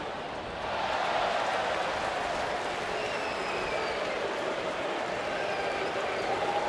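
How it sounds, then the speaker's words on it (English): A stadium crowd at a Red Sox at Phillies baseball game in 2011 boos a Red Sox fan who caught the ball, a steady, broad wash of crowd noise that swells early and holds at moderate loudness throughout. "Sounds like a Red Sox fan must have caught that ball down there the way they're getting booed"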